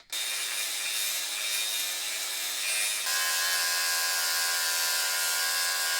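A sanding disc grinds against aluminum on a Honda Shadow 750 chopper project in a continuous, harsh, high whir that holds steady for several seconds and shifts pitch slightly midway, close and loud with no talking.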